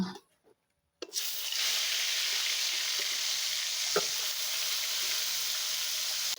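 Rohu fish pieces drop into hot oil in a pan after a brief quiet moment, then crackle and sizzle loudly and continuously, with a couple of light knocks and no voices.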